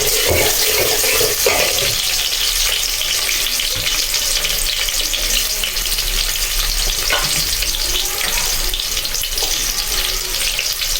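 Chopped onion frying in hot oil in a pan for a fish curry, a loud, dense, continuous sizzle and crackle with faint stirring scrapes underneath throughout.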